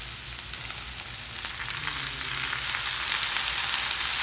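Green chillies, tomato and mint sauté in a cooker pot for chicken biryani, a loud, steady close sizzle with occasional crackles and a faint stir, and no voices.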